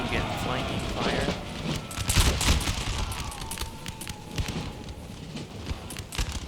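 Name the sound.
musket flanking fire in video game Empire: Total War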